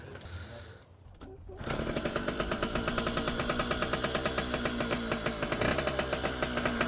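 After a short quiet stretch, a small two-stroke Yamaha TY80 trials motorbike engine starts and runs at a fast, rattling idle, loud and close with rapid regular pulses.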